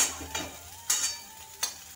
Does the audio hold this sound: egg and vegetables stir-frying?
yes